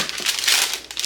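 Parchment paper crinkling as it is laid on a baking sheet, a brief close rustle that swells in the middle and fades.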